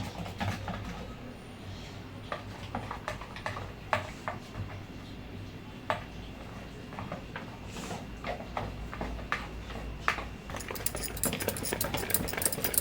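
Cake batter stirred by hand after Eno is poured in produces close, repeated clinks and taps of a utensil against the bowl over a soft scraping churn, steady and unhurried.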